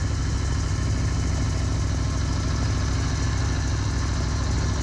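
A 2018 Aprilia Tuono Factory motorcycle engine at speed on a Nürburgring lap, captured onboard as a constant, heavily buzzing drone with wind roar and no change in level.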